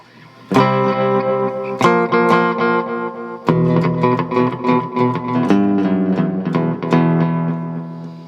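Electric guitar played through a Boss RV-6 reverb pedal in a delay-with-reverb setting: several plucked notes and chords ring out loud and close, each trailing into repeating echoes and a reverberant wash.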